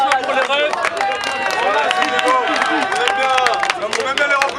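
Comedy club audience at a Paris stand-up night applauding loudly and steadily, with dense clapping mixed with cheering and shouting voices throughout.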